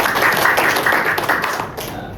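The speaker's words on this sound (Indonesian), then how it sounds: "Kasih tepuk tangan untuk semangat hari ini." Students in a classroom clapping together, a brief burst of dense, overlapping hand claps that fades out within a couple of seconds.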